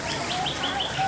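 A duck calls in the Animal Kingdom bird house, giving a few short, close chirping notes over a busy background hum.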